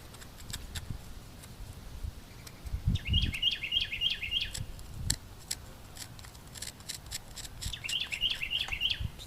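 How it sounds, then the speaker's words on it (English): Birds chirping outdoors on a warmer day while someone works on a soapstone oil lamp, with two bursts of rapid repeated tweets between scraping and tapping noises. "It's a little bit warmer today, so all the birds decide to come out."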